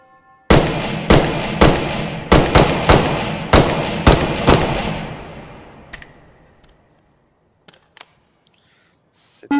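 Gunfire in the VR shooter Hot Dogs, Horseshoes & Hand Grenades: about eight loud, sharp shots in a steady rapid rhythm with ringing tails, then the reverb decays, followed by a few faint clicks of handling.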